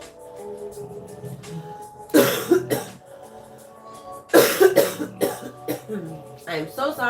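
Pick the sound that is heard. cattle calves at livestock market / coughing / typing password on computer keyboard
coughing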